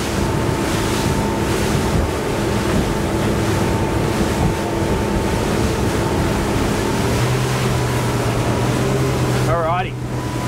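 Loud engine of a 2021 Nimbus T9X motorboat droning over rushing waves and strong wind buffeting, continuous throughout, with a brief voice near the end.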